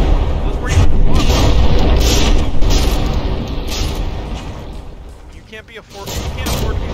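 Artillery shells fired during a From the Depths battleship battle, heavy booming blasts that rumble on in a continuous barrage and then thin out briefly before rising again, with a speaking voice underneath.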